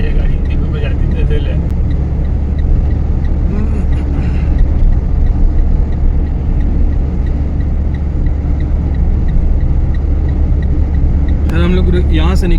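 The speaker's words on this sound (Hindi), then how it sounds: "गाड़ी आ रही है, एक दो ऐसे चली आ रही है गाड़ी" Cars and other vehicles pass along a road at night in Rajasthan, a steady loud engine and tyre rumble running throughout, with brief voices near the start and end.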